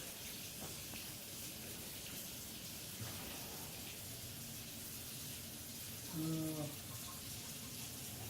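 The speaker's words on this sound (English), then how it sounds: "just a little bit of cold water." Cold water running from a kitchen tap into a measuring cup, a soft steady pouring hiss that stays low and faint in the background throughout.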